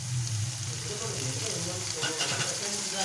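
Onions and tomato fry in a pan for a ridge gourd and egg curry, giving a close, steady sizzle with stirring scrapes, while a voice speaks softly underneath.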